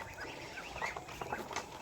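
A flock of ducks and newly hatched ducklings on a provincial farm give a chorus of busy quacks and chirps, a dense, moderately close layer of overlapping calls with no talk.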